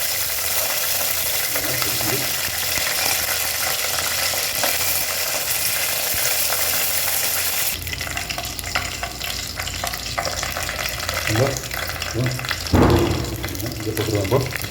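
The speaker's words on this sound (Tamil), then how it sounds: "ஸோ கருவேப்பிலை போடும்போது கொஞ்சம் தெரிக்கும் பார்த்துக்கோங்க" Curry leaves spluttering and sizzling in hot oil for pepper rasam, a steady loud crackle throughout with a few sharper pops and stirring clatter near the end.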